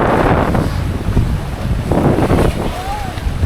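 Steady wind buffeting a microphone outdoors, a low rumbling roar throughout, with a voice speaking faintly underneath.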